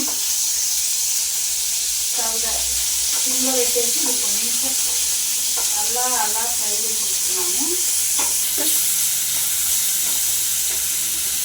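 Chicken pieces fry in a pan with a loud, continuous sizzle and hiss throughout, while a voice talks faintly underneath.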